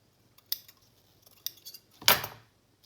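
Metal scissors handled while crafting a junk journal belly band with lace, a few sharp clinks and jangles at close range, the loudest rattle near the end, with no talk.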